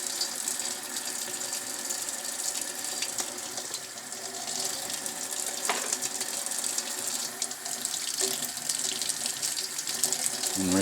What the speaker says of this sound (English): And rinse it off afterwards.